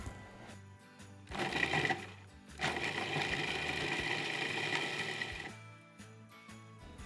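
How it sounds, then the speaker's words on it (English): Food processor crumbing Oreo cookies, running in two loud bursts of whirring and rattling chopping with a short pause between, then cutting off near the end. "I'm just going to use my food processor to crumb up these Oreos"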